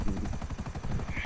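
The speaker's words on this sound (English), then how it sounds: "I hear a helicopter falling right next to me." In the GTA 5 video game, a helicopter comes down close by, its rotor chopping in fast, even pulses for about a second, loud and near, with no voices.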